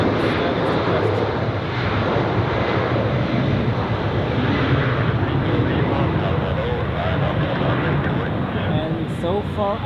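An Air Canada airliner pushing back at Zurich Airport, with a loud, continuous jet engine roar and whine filling the scene while a person talks over it throughout.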